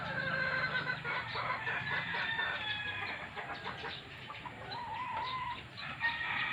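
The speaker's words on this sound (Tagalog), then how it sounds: "nga yung mga manok ko" Several chickens cluck and murmur continuously nearby, with overlapping calls and no voices.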